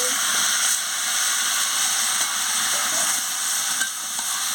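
Potato, pointed gourd and paneer curry sizzling steadily in a pan while being stirred, a continuous bright frying hiss with faint scraping, close and alone.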